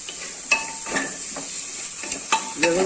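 Ginger garlic paste masala for chicken curry is stirred in a pressure cooker, a close, continuous frying sizzle broken by several distinct scraping strokes of the spoon against the pot.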